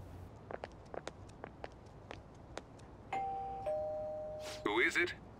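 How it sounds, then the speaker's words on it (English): A doorbell chimes in the video game Persona 5 Royal: a ding-dong of two sustained tones, clear and fairly loud, after a run of soft, evenly spaced footsteps on a quiet background. "You ring the bell."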